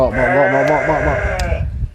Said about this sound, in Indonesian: wah nyengir euy domba teh beger ieu euy